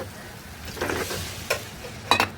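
Braised meat sizzles in a pan at home, a continuous hiss broken by a few sharp scraping clinks of a spoon against the pan.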